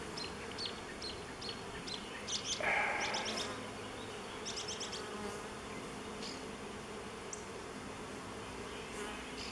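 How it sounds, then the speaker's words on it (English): Honeybees buzz around an open hive frame, a close, steady drone with individual bees passing nearby, a brief louder buzz partway through, and faint chirps behind. "There's a bundle of bees there."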